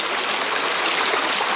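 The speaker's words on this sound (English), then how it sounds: "Now set up in the stream." A fast mountain stream near a waterfall rushes in a loud, steady, broadband wash of flowing water heard close up, with no voices.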